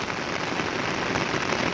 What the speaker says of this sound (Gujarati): વરસાદ ધડાધડ ધડાધડ પડી ગયો છે